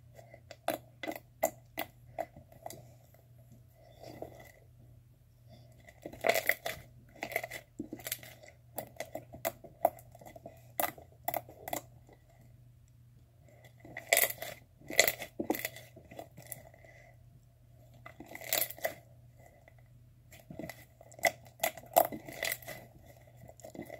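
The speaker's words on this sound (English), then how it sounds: "This first one is a caramel frappuccino butter slime." Caramel frappuccino butter slime is squished and pressed by hand, giving soft, irregular clicking and popping bursts in clusters, close and quiet, with a low steady hum underneath.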